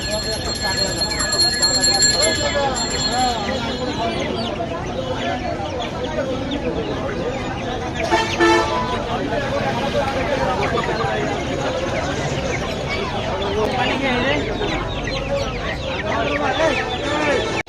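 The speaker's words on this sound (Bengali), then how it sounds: "গরমের টাইম তো মুরগিগুলো মোটামুটি হাঁপাচ্ছে" Dense clucking of many chickens fills a busy, noisy poultry market at Kaptan Bazar, with people talking in the background throughout.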